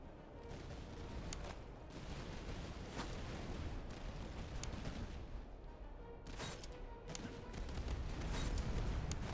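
Unlimbered artillery fires in the video game Master of Command: faint, distant booms and crackling volleys blend into a continuous noisy battle din, with a sharper cluster of reports partway through.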